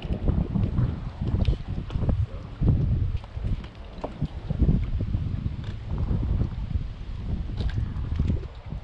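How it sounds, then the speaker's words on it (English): Gusty wind buffets the microphone during a fishing trip, a rough low rumble with uneven surges that carries on for the whole stretch with no talk. "Wind ain't no joke."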